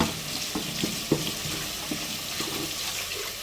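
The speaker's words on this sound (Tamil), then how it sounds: "கட்டிங் போர்டை வந்து அப்பப்போ கழுவி வச்சிடணும்" Running tap water splashing into a kitchen sink while a cutting board is washed, a steady rushing stream broken by a few clattering knocks and bumps.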